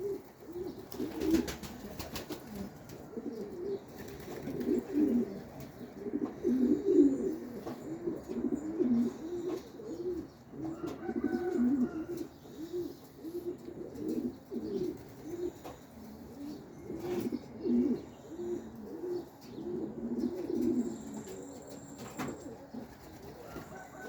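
Pigeons coo softly and repeatedly, low throaty calls overlapping close by, with occasional rustles and faint flapping in the background.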